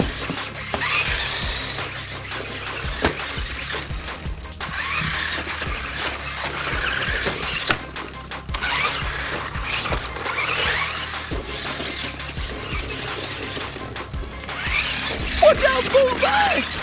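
A Tough N' Tumble remote control toy car races around in an animated scene, its motor whining with screeching skids and clattering bumps, under lively music and character voices.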